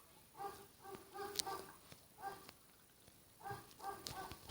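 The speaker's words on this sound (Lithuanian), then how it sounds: "O ne, paleisiu vištas tas dvi." Chickens clucking in the Minecraft video game: short bursts of game fowl calls in three or four separate clusters with pauses between, fairly quiet, no talk.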